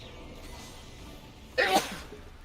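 A single short sneeze bursts out close to the microphone after a quiet stretch of faint background hiss.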